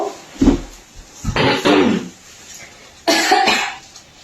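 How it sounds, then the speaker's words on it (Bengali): A woman coughs in three harsh bursts, close and loud, with short quiet gaps between them. "উফ, কাশি হচ্ছে, আমার অবস্থা খারাপ পুরো।"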